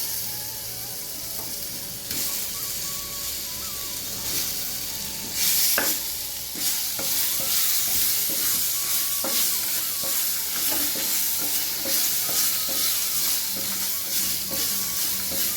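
Guava pieces sautéing in a pan for a guava chutney, with a steady close sizzle and hiss running throughout and periodic stirring scrapes and clinks of a utensil, no talk.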